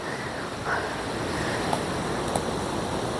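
Steady wind rushing outdoors at a graveyard, a continuous broadband roar with a slight gust swelling early on and two faint ticks, no voices.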